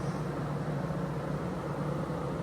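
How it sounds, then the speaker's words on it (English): A Turbro Greenland air conditioner starting up gives a steady, even whoosh of fan air over a low hum. The sound is continuous and moderately loud, with no speech. "And the air conditioner starts turning on."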